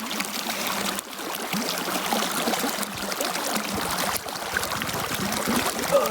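Water trickles and gurgles continuously, close by, as a bottle is filled in a cold flowing mountain stream, with soft splashing throughout.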